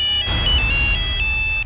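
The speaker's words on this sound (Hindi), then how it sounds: "ये देखिए सर का फोन भी आ गया।" Mobile phone ringing with an incoming call, a loud, bright electronic ringtone melody with sustained tones, heard alone and cut off after under two seconds.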